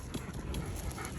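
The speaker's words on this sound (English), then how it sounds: "Scout, what are you barking at?" A dog pants quickly and softly nearby, short rhythmic breaths with a faint whimper mixed in over a brief moment.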